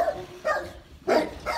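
Dogs bark on a street in Portugal, three or four sharp, fairly close barks coming in quick bursts with short gaps between them.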